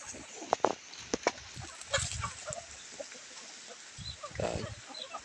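Palawan native chickens cluck in short, close bursts, several sharp calls at first followed by softer scattered clucks and shuffling from the flock.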